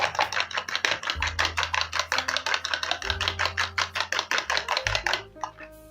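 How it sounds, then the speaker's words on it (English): Eggs and milk are beaten in a bowl with rapid, steady clinking strokes, close and fairly loud, with faint hum in the background and no talking. "Then I'm going to mix this till everything is well combined."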